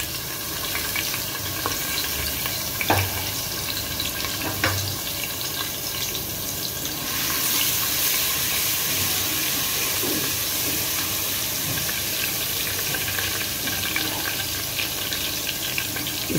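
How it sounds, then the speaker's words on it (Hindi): Chopped garlic fries in cooking oil inside a pressure cooker, giving a steady, moderate sizzle close by, with a few clinks of a utensil against the pot. "तो पहले मैं कुकर में ऑयल डाली, और ये है लहसुन कटा हुआ"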